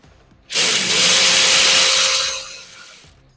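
A power tool whirring to remove a nut from the front bracket of an A-arm support kit on a Kawasaki KRX 1000 UTV, one loud, close burst of about two and a half seconds that then winds down.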